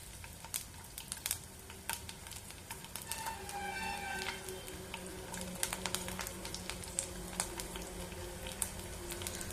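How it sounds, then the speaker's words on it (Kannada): Garlic fries in hot cold-pressed oil over a low flame, a soft continuous sizzle dotted with crackles and small pops, plus a brief faint tonal ring in the middle, with no talking. "ಈಗ ಎಣ್ಣೆ ಬಿಸಿ ಆಗಿದೆ ಇದಕ್ಕೆ ಬೆಳ್ಳುಳ್ಳಿ ಹಾಕೊಳ್ಳೋಣ"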